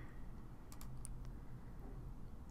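A few quick, crisp computer mouse clicks on a search page's go button in a children's encyclopedia program, clustered close together over a steady low room hum, with no talking.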